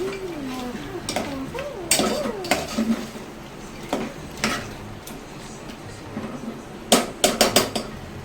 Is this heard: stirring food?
yes